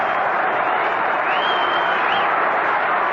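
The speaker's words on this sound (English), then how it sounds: "Jose Cardinal getting a big hand from this record opening day crowd as he leads off for the Cubs" Record opening-day baseball crowd at a Cubs game applauds Jose Cardinal as he leads off, a broad, steady wash of clapping and crowd roar with a faint whistle rising above it, no one talking over it.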